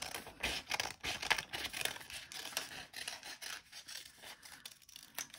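Scissors snipping through paper to cut out a heart-shaped template, a steady run of close, crisp cuts and rustles with no talking.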